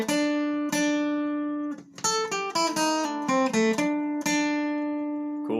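An acoustic guitar slowly plays the second lick of a bluegrass tune, with single picked notes ringing out, a quick cluster of notes in the middle, then sustained tones, close and alone.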